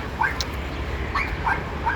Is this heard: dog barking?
yes